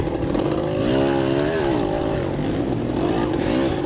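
Dirt bike motorcycles race in a hare scramble, with a close engine buzzing and revving steadily, its pitch rising and falling through gear changes over continuous loud noise.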